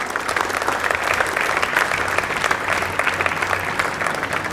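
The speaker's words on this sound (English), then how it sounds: "with a big round of applause from each one of us" A school assembly bursts into a loud, even wall of clapping to welcome the new student council, sustained throughout with a low hum underneath.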